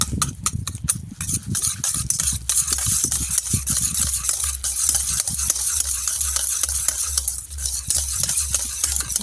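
A hand whisk beats chhena (cottage cheese) in a bowl, with a burst of quick rhythmic scraping taps at first that settles into steady, softer whisking and a faint background hum.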